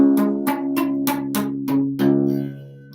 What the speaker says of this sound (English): If you have the high strings muted more than the low strings